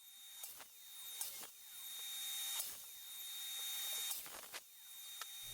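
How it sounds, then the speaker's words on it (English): A mitre saw cuts a slanted edge into the side panels of a speaker cabinet, making a faint, steady high whine broken by a few sharp knocks and surges. "I'm setting up my mitre saw to cut the slant here in the side panels"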